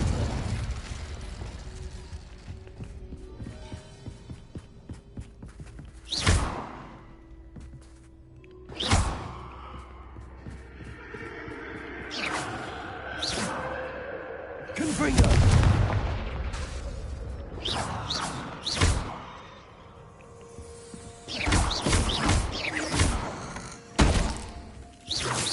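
Spell casting in Hogwarts Legacy, including summoning, fire and blasting spells: a sparse series of sharp magical bursts and thumps scattered over a quiet hum, growing denser and louder toward the end.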